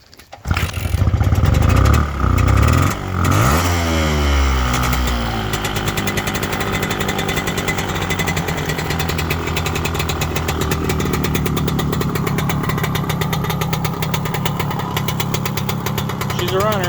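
A 1971 Suzuki TC120 motorcycle engine fires up with a few rough kicks and revs, then settles into a loud, steady, rattly two-stroke idle that runs without a break, close to the bike.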